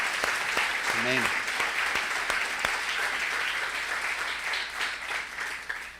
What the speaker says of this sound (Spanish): Vamos a darle un aplauso fuerte a Dios.